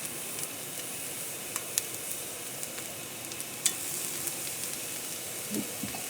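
Scallops and shrimp sauté on a hot burner, a steady soft sizzle and hiss of frying seafood with occasional sharp pops and crackles, fairly quiet and without talk.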